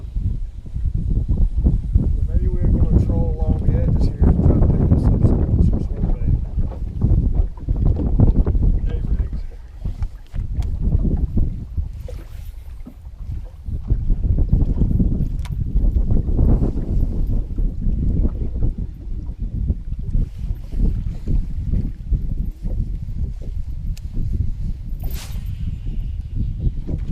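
Fishing boat trolling along the edges of Lake Sam Rayburn in Texas, a steady low motor drone with strong wind rumble on the microphone and water noise, loud and continuous, with occasional voices.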